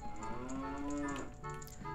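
A cow moos once in Ocarina of Time, a single drawn-out low moo, clear and close, with no talking.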